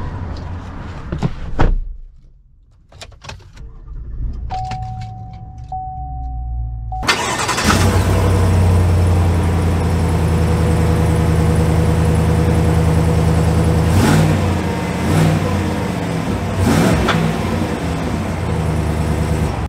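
Chevy Silverado 1500 Trail Boss Custom pickup, heard first as faint interior clicks and a door thud, then the engine starts with a sudden loud rumble that settles into a steady, deep idle and drive-off drone from inside the cab.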